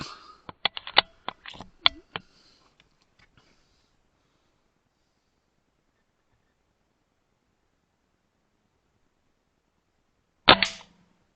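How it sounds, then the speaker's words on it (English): A Stoeger XM1 .177 air rifle fires once near the end: a single sharp, close crack after a long silence, preceded by a run of quick mechanical clicks and taps at the start. "I'll have one more shot just to make sure."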